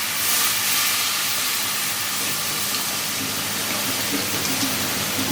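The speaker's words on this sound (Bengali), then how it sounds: "এখন দিয়ে দেবো জল।" Water poured into a hot pan of spiced taro curry, giving a steady, loud steaming hiss and sizzle that holds evenly throughout, close up and with no talking.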